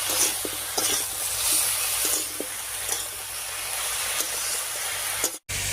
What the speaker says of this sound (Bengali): হলুদ লবণটা দিয়ে সব সবজিগুলোকে একটু বেশি আছে ভাজা ভাজা মতো করে নেব